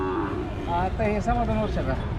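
At a busy bull market in Pandharpur, a bull gives a loud, drawn-out moo close by. Its low, wavering call lasts a couple of seconds over the market's background noise.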